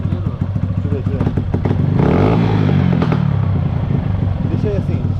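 A 2022 Yamaha Factor motorcycle with an engine noise fault idles loudly up close, then is revved up and eased back in a rising and falling surge, with people talking over the engine.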